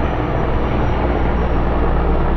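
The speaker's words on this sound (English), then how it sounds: "And there goes the airplane, or helicopter, whatever that was." An airplane or helicopter passes overhead as a loud, steady broadband roar that fills the whole stretch without a break.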